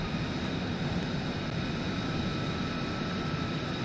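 A small general aviation airplane engine drones steadily inside Microsoft Flight Simulator, a constant, even hum with no change in pitch or loudness, heard alone without talk.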